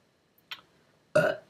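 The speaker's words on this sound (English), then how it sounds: "that was a burp, that wasn't a tic" A single loud, close burp rumbles for about a third of a second after a brief faint click and a short breathy noise, with quiet between.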